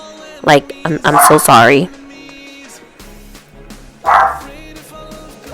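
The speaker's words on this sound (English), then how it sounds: "I'm sorry if you hear my dog in the background." A dog yelps and barks in a few quick high-pitched bursts, then whines again briefly after someone speaks apologetically nearby.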